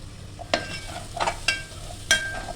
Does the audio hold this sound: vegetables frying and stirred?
yes